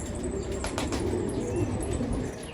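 A Mürekkep pigeon beats its wings in a quick flurry of flaps, fairly close, with faint background noise and no talk.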